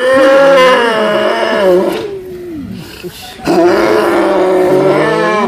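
Loud, harmonic animal vocalizations, grunting and moaning bellows from angry black cattle nearby, with a brief quieter gap before another strong outburst.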